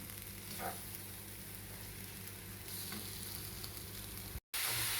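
Eggplant flesh sautés with garlic and aromatics in a pan, a steady close sizzle with faint stirring scrapes, briefly cut to silence near the end before the frying resumes.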